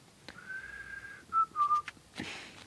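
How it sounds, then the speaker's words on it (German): A person whistles a short tune alone in a quiet room: a long held note followed by a few shorter notes, faint and close, with small clicks and a brief noise burst at the end. "Pfeifen auf der Aufnahme klingt übrigens ziemlich doof eigentlich"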